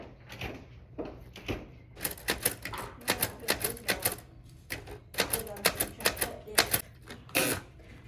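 Typewriter keys clack in irregular bursts of quick strikes, with a louder, denser run of keystrokes and occasional heavier thumps, fairly close and with no talking over it.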